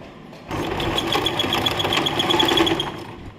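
A sewing machine stitches a fabric blouse tassel in one steady, loud, fast-rattling run of about three seconds that starts abruptly and then stops.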